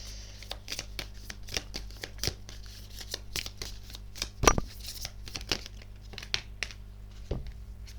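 Tarot cards handled and shuffled up close: soft papery riffling and crisp card snaps over a low background hum, with one louder slap near the middle.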